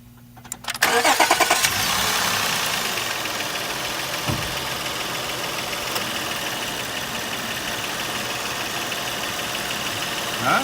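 A car engine cranks briefly and catches, then settles into a steady mid-pitched idle with a faint knock, heard alone at moderate volume after a quiet start.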